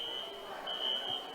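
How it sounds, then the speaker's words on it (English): A smoke or fire alarm shrills inside a school gym during a varsity boys basketball game, a steady high electronic tone that breaks off briefly and resumes, moderately loud over a murmuring crowd. "Well, the fire alarms are now going off."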